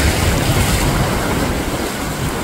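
Strong ocean surf rushes and crashes continuously at a beach, a loud, dense roar with wind buffeting the microphone and no talking.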